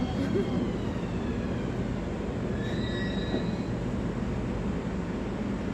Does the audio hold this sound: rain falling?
no